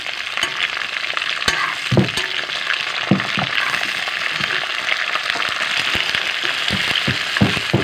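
Moringa drumstick pieces and potatoes fry together in a pan of hot oil, giving a close, constant sizzle broken by sharp pops and clacks of stirring, with no one talking.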